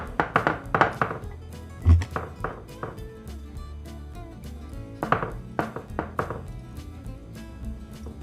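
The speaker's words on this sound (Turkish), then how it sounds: "Kare borcama döküyorum. Şöyle yayıyorum." Potato gratin mixture poured into a square glass baking dish and spread out, with close, irregular taps, scrapes and soft thunks of a utensil against glass, busier at the start and again later, and no talking.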